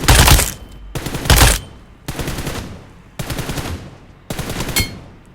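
Gunfire in PUBG Mobile, heard as five loud, close bursts of rapid automatic fire, each under a second long and separated by short pauses with faint echoing tails, and no voices.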